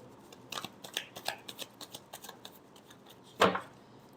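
A deck of tarot cards is shuffled in a quick series of soft, crisp riffles and taps, ending with one louder slap of the cards, with no voice.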